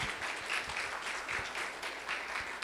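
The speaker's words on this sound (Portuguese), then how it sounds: "Uma salva de palmas, meu amigo." An audience at a forestry plan event in Bahia applauds a speaker taking the stage, a steady wash of clapping at moderate level with no break.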